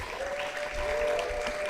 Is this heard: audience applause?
yes